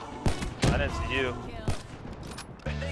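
Sniper rifle headshots in a first-person shooter, with several sharp, punchy gunshot cracks spread across a few seconds while a player talks excitedly over them.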